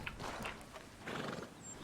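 A horse in Red Dead Redemption 2 gives a couple of short neighs and snorts, close and moderately loud, with faint hoof clip-clop between them and no talking.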